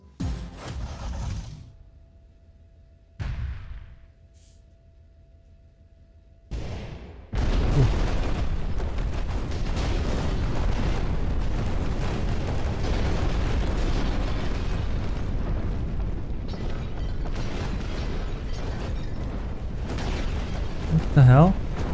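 Guns and explosions in a destruction video game: a few short isolated bursts, then a sustained, dense roar of rapid firing and blasts that continues loudly to the end, with a voice speaking at times.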